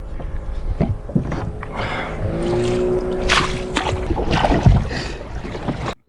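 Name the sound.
kayak paddling on water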